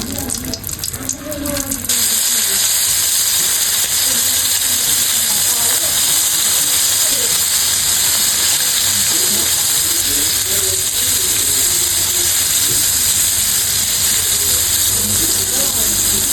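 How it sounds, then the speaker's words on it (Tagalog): Flour-coated squid calamares frying in hot oil in a pan, a loud, steady crackling sizzle that starts abruptly and continues unbroken to the end, with no talk over it. "At atin na pong isasalang po dito sa kawali na mayroon pong mantika."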